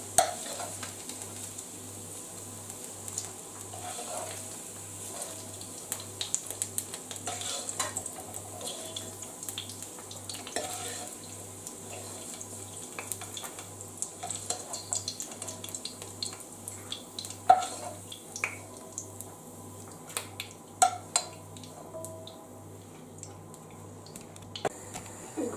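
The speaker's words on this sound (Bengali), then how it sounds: "এখন আমি মশলাগুলো ভালো করে ভুনে করে নেব" Spices for a Malaysian vegetable curry fry and get stirred in a pan, a soft continuous sizzle broken by scattered scraping and clinking strokes of the spoon, with a low steady hum underneath and no speech.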